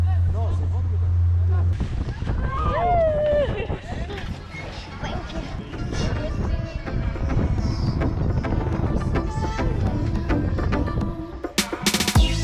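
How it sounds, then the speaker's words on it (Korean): Steady wind and engine roar of a boat moving over the Indian Ocean off Mauritius, with splashing and voices talking throughout, loud and close. "다시 보트에 올라탔다"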